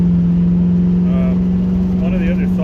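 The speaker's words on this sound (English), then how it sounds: "got a big fire truck going by." A big fire truck passes while driving down a mountain road, its heavy engine droning loudly and steadily throughout, with faint whine-like tones rising near the middle and end.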